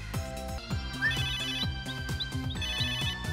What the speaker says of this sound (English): Uh-oh, it's the phone.